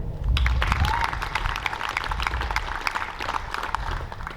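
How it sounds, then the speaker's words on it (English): An audience at a Ramstein Air Base Air Force senior NCO induction ceremony claps in sustained, even applause that fills the whole stretch, dense and crackling at moderate loudness. "let's give another big round of applause to our 2020"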